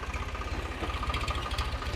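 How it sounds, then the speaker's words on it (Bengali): A power tiller engine runs steadily close by, its low, rapid chugging pulse continuing without a break for the whole stretch, with no voices over it. "সেটা পাওয়ার টিলার"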